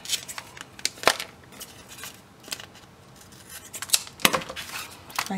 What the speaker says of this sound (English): Take scissors.